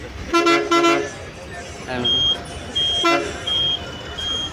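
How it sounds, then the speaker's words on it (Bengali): A bus pressure horn on a Pondicherry to Villupuram ride gives a couple of loud blasts, then several shorter, thinner honks repeating over steady road noise from inside the moving bus. "দেখো প্রেসার হর্ন প্যাঁক প্যাঁক প্যাঁক প্যাঁক"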